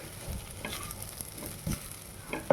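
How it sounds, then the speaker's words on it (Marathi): Spiced sabudana mixture being stir-fried in a pan, a quiet continuous sizzle with a few soft scraping strokes of the spoon against the pan. "आता हे सर्व मिक्स करूया. छान परतून घेऊया."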